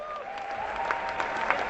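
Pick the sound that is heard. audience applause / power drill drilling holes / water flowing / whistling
audience applause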